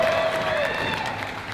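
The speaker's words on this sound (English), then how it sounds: "round of applause." A crowd claps and cheers for a kid just given a new BMX bicycle, a short burst of applause mixed with voices and chatter that keeps steady throughout.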